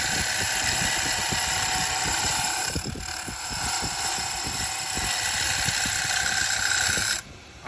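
A lathe spins a large, out-of-round custom shave brush handle at low RPM, giving a steady close motor drone with a faint rhythmic thump that cuts off abruptly near the end.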